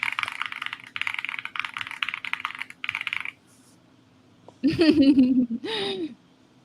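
Rapid clattering keystrokes on a computer keyboard come in several bursts over the first few seconds, fairly close and steady, followed by a short spell of quiet and then a voice laughing and speaking.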